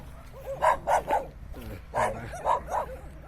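Several dogs bark in short bursts, a few yips mixed in, coming in two clusters at moderate distance.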